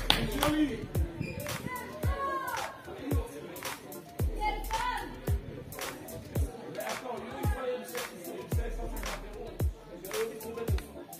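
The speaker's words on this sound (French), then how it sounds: "J'applaudis de deux mains." Sharp, hand claps ring out at intervals through a women's football match on an outdoor pitch, near and fairly loud, mixed with shouted coaching voices and scattered play sounds.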